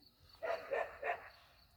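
Three soft, muffled dog barks in quick succession at a boat ramp, faint and somewhat distant over a quiet background.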